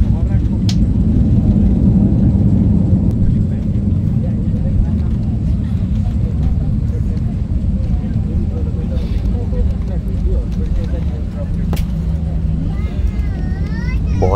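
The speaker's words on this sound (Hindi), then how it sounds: "ये होने वाली है हमारी फाइनली लैंडिंग" An airliner lands on the runway at Bali airport, with a loud, continuous low engine and cabin roar throughout and a faint voice over it.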